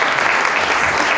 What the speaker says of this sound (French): Et j'aimerais qu'on les applaudisse.